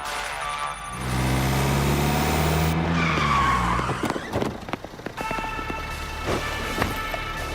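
A car in the game Standoff 2 approaches with loud, sustained tire skidding and squealing over an engine roar, then a run of sharp clattering impacts as it closes in.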